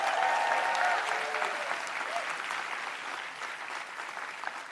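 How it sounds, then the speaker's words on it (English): An audience at Michael Bloomberg's 2020 campaign event breaks into sustained applause, a bright steady wash of many hands that slowly eases off, with a voice speaking briefly at the start. "you deserve a round of applause"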